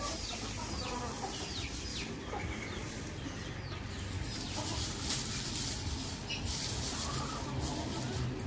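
A broody country hen being settled on eggs clucks softly and repeatedly in a continuous low murmur, with faint scattered bird calls around it and no talking.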